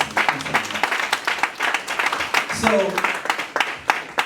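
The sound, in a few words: audience applause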